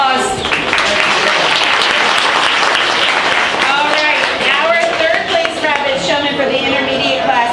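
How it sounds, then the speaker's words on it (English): Loud, sustained audience applause at a youth rabbit show, dense clapping filling the room for several seconds with voices and cheers mixed in. "One more round of applause."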